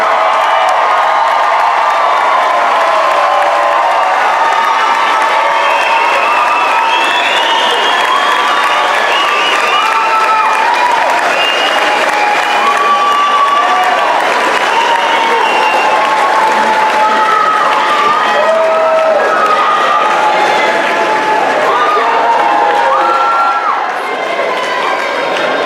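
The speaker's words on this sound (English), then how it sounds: "may we present for a final round of applause the Academy's graduating class of" A crowd gives a loud, sustained ovation for an academy's graduating class of 2017, with thick continuous clapping, scattered cheers and whoops riding on top across the whole stretch.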